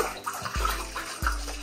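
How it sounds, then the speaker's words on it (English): A hand stirs laundry sanitizer into a container of water for washing Richardson 112 hats, making close, rhythmic sloshing swishes with two strong surges. "I'm just gonna use my hand to stir it up and get the agitation so it mixes really"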